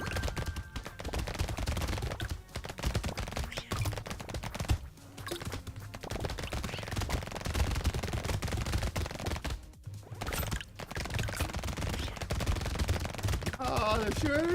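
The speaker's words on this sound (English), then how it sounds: "They're shooting very painful shots." Continuous dense shooting in the Brotato game, a busy clatter of rapid shots and hits running almost without pause, with brief dips, and a few bright electronic blips near the end.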